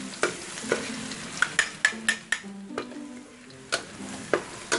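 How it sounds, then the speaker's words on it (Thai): Chopped garlic frying in oil in a pan over low heat, a steady sizzle broken by repeated sharp scrapes and clinks of a utensil stirring. "ตั้งกระทะเนาะพี่น้องใส่น้ํามันแล้วก็ใส่กระเทียมสับลงไปเนาะ"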